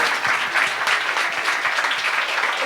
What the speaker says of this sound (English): Let's hear a thunderous round of applause for these amazing ladies on the dais.